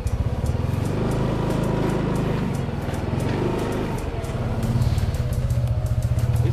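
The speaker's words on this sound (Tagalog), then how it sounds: "Ngayon lang ako magdadrive ng NMAX." A Yamaha NMAX motor scooter being ridden: a steady, close engine drone with a rumbling low end that holds level throughout, rising slightly in intensity toward the end as it picks up speed.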